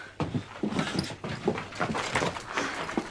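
A dog whimpers and whines in short repeated breathy bursts, close by, with snuffling between cries, in a Christmas drama scene.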